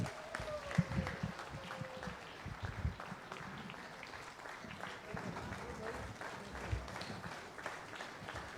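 An audience at the Urdu conference's closing session claps to welcome Anwar Maqsood, giving modest scattered applause at moderate distance with murmurs and some talk mixed in.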